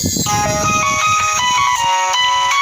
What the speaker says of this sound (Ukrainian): бо телефон дзвонить.